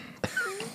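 A person coughs after a sip of Laphroaig 10 year whisky, one sharp close cough followed by a brief raspy throat clearing, heard alone.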